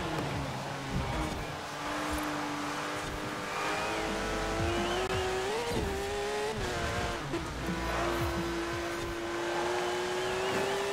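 A Porsche races in Forza Horizon 4, its engine holding a steady loud drone that climbs in pitch with occasional revs and shifts, plus a brief tire squeal, all continuous with no gaps.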